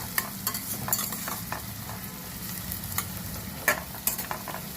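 Onions salted and frying in a pan for an Andhra-style fish curry crackle steadily, with repeated clinks and scrapes of a stirring spoon and one louder knock near the end, close and without talk.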